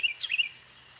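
A small red bird perched on a fence gives a couple of quick chirping calls early on, fairly clear against quiet outdoor background, then falls silent.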